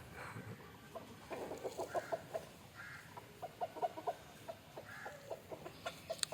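Country hens and a white rooster give soft, fairly faint clucks near their coop, with short scattered calls and pauses between them.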